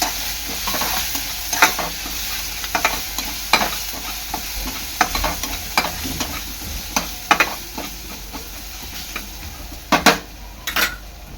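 A spoon stirs a coarse ginger, garlic and chilli paste for vada pav in a sizzling pan, with repeated sharp metallic scrapes and clinks over a steady fry, close and without talking.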